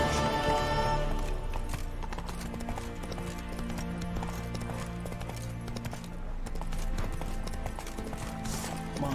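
Horse hooves clip-clop steadily in Witcher 3, a fantasy role-playing video game, as the mount trots along in a continuous rhythmic patter layered over game music and ambient sound, with no talk.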